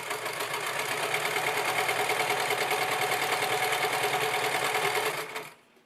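A sewing machine runs at a steady, fast whir while backstitching a dress seam, close and continuous, then stops abruptly near the end.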